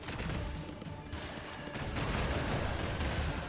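A volley of missiles fired at the player in a roguelike action game: a dense, roaring barrage of rapid blasts that swells louder toward the end, with no voices.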